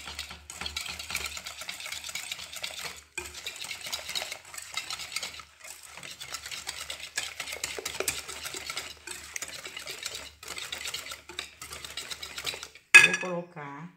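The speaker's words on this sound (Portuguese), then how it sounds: "Agora vou estar colocando os 50 ml de leite. Eu vou mexer muito bem." A utensil stirs 50 ml of milk into rice bread batter in a bowl, giving steady close scraping and clinking against the dish that runs nearly continuously, with a short pause and a sharper knock near the end.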